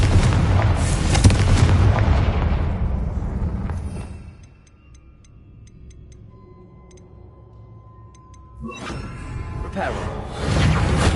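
A Confringo spell in a video game erupts in a loud, sustained blast of rumbling noise for about four seconds, drops to a quiet lull with faint ticking, then surges again into another loud burst.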